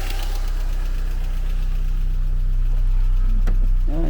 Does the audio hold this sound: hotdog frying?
no